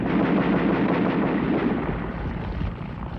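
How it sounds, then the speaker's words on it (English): Anti-aircraft ground fire from the First World War era booms in a dense, loud, continuous barrage of low rumbling blasts, heavy and muffled, with no voices. "By the end of 1915, bombers could no longer go unmolested by ground fire."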